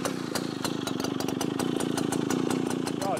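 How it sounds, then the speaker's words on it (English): An old Stihl BL one-man chainsaw with a 125 cc engine, being test-started for the first time in a while, pops and sputters in rapid rhythmic bursts, running rough and fairly faint. "This is an old Stihl BL, the first one-man saw that Stihl built."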